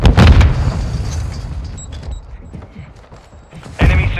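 A stun grenade goes off in Modern Warfare 2 on the Shoot House map: a heavy close boom at the start, then a fading rumble with scattered distant shots, and a second loud burst near the end.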